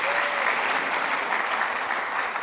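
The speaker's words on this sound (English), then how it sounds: "I'm hoping for an applause here," Audience applause at a forum on education cooperation between Europe and Africa, a dense steady clapping that fills the room throughout, with no voices over it.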